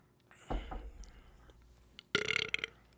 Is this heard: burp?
yes